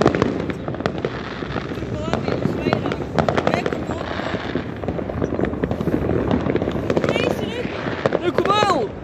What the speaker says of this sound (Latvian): Šausmas tur daudz salūtu!